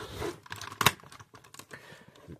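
Plastic panels on a Transformers Revenge of the Fallen Optimus Prime toy being folded out, a string of small clicks and clacks up close, with one sharper snap partway through.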